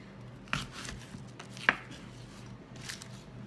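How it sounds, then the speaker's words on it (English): A knife mincing an onion on a cutting board while prepping for pilaf or risotto: a few separate, crisp chops spaced about a second apart over a quiet kitchen background, with no talking. "Now while those are melting, I am going to prep my onion"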